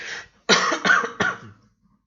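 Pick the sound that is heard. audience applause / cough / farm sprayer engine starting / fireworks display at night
cough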